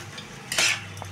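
Fried chicken pieces tumble into a pan for chilli chicken, a brief metallic scrape and clatter of a spatula against the pan, close and alone with no talking.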